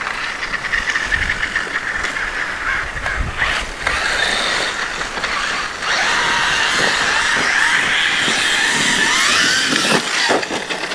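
Traxxas XMaxx 8s RC truck on belted Powerhobby Raptor XL tires climbing a steep hill, a loud whining electric motor rising and falling in pitch with gravelly crunching bursts, close and unbroken.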